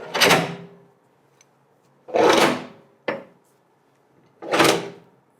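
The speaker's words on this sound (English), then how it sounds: "what we will also need to do to make sure that it is safe before firing is to ensure that we close the locks" Locks on a blast test chamber door being closed, four separate heavy scraping slides with a solid metallic quality, close and loud, spaced across quiet pauses, one of them brief and clipped.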